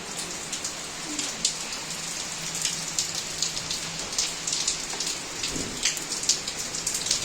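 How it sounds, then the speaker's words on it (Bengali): Heavy rain pouring down outdoors, a dense steady roar of drops drumming on surfaces with occasional louder splatters, heard alone and continuous throughout. "বাইরে থেকে যে কতটা জোরে বৃষ্টি হচ্ছে"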